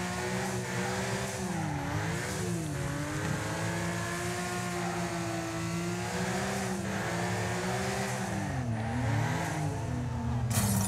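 A Nissan R33 Skyline in the racing game Wreckfest drifts on the PS5, its engine droning and revving steadily with pitch rising and dipping through slides, tires faintly squealing, loud and continuous without talk.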